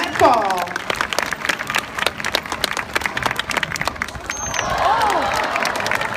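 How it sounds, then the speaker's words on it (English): A live show audience cheers and claps to urge on a 385-pound sea lion performing a splashing ball-touch trick in a pool, with a loud crowd roar rising under an announcer's voice. "I think we're going to have to make a whole lot of noise to cheer our star on"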